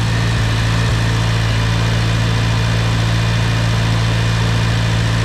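A Farmall Cub tractor engine runs with a deep, steady rumble and low vibration, holding an even pitch close by with no talking.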